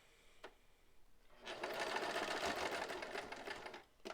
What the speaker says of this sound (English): I'm going to do this and make sure that I put the foot down. And we begin to sew.